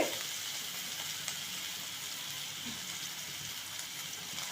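Sliced large onions and curry leaves fry in hot oil for a garlic kuzhambu, a soft continuous sizzle that stays fairly faint and even throughout with no voices.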